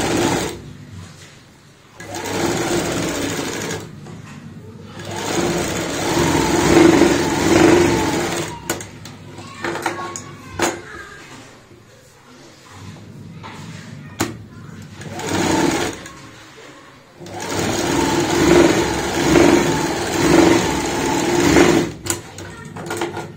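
A sewing machine stitches cushion cover pieces in several close, loud running bursts separated by short pauses, with a person talking between the runs.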